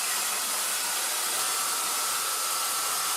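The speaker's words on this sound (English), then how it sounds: "I pivoted the belt sander to the horizontal position and used the wheel of the machine to back the belt." A belt sander, pivoted horizontal with the belt backed by its wheel, grinds the edges of steel pieces for a welding cart, a loud, constant abrasive roar with a steady hiss and no talk.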